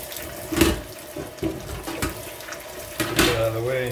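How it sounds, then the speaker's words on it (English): Water runs from a tap into a sink during cleaning. The flow splashes in uneven bursts, with clattering, and a voice can be heard in the background. "I gotta clean the sink out too, man."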